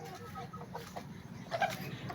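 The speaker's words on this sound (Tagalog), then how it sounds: "Nag-relax relax na sila manok." Soft, scattered clucking from a few chickens nearby, with a brief louder cluck midway amid low farmyard background noise.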